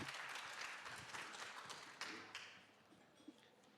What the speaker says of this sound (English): Welcome on stage, a big applause for Duchamp.